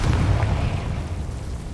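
Confringo spell explosion in the Hogwarts Legacy video game, a deep, heavy boom that rumbles on and slowly fades over a couple of seconds.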